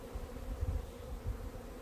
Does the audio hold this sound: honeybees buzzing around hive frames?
yes